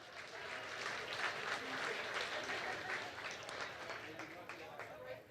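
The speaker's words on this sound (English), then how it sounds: "Let's give him a big round of applause" Sustained applause from an audience at the 2022 ContactNB Awards of Excellence Gala, a dense, steady wash of many hands clapping at even loudness for the whole stretch.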